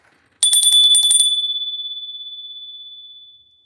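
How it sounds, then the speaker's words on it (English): A bell struck once, a loud close metallic ring with a fast rattling clatter at first, then a single pure tone that sustains and slowly fades over a few seconds, heard alone. "We're going to ring the bell."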